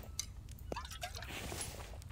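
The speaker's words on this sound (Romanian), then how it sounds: "Apă luăm de aici." Water being collected in the survival game The Infected: brief liquid drips and a short pouring splash over a low background rumble, with no talking heard.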